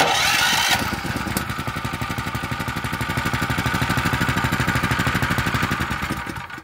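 Small water pump engine cranked with its starter switch: a brief whirring crank, then the engine catches into a loud, close, steady chugging idle with a fast even pulse before cutting off at the end.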